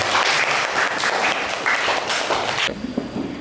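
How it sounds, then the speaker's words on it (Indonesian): A classroom of students applauds, dense steady clapping for about two and a half seconds that then stops abruptly, leaving faint room sound. "Tepuk tangan semuanya dong."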